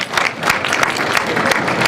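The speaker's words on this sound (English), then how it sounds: "let's give a round of applause" Loud, close round of applause from an evening event crowd, dense and continuous clapping with scattered sharper hand claps over a brief stretch, no voices on top.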